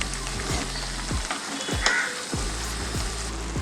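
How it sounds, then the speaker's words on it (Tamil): Drumstick aviyal, a South Indian drumstick dish with ground paste and juices, bubbles and sizzles steadily in a pan on the stove. The sound is close, continuous and crackling, with faint recurring sweeps and no voices. "இது நல்லா கொதிக்கட்டும்."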